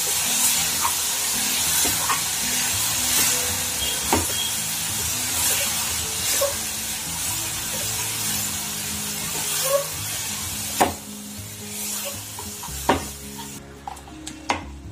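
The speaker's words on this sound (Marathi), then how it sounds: "हे बघा, आता मी हे पायनॅपल टाकते। त्यात मी आता शिजवून घेते हे।" Pineapple for shira cooking in a pan, an even close sizzle and hiss with scraping and tapping of a spoon stirring, the strokes growing sharper and more distinct toward the end.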